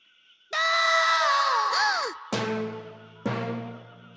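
Cartoon character from The Land Before Time yelling, a loud sustained cry with a rising-falling pitch sweep, followed by two shorter shouted bursts.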